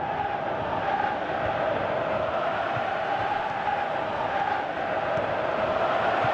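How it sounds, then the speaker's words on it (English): A football video game crowd in PES 18 roars in a steady, continuous wash of massed voices throughout, with no clear peaks or breaks. "you can hear how the crowd are reacting to this too"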